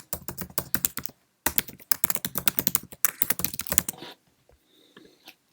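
Fast typing on a Mac computer keyboard, bursts of close, crisp key clicks with short pauses between, tapering to a few faint taps at the end.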